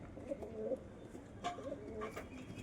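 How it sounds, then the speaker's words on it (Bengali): Male Madras pigeons give soft, low coos, two short calls spaced about a second apart over a quiet background hiss, heard from a moderate distance. "এখানে একটা নর পায়রা, এটাও নর পায়রা"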